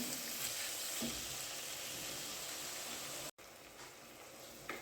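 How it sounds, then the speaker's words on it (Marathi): Sprouted-bean usal sautéing in oil with spices, a steady broadband sizzle and crackle that runs on continuously, with a brief cut near the end before the frying resumes. "दोन मिनटं छान तेलामध्ये मसाल्यांमध्ये पूर्ण मिसळ ही व्यवस्थित परतून घ्यायची आहे"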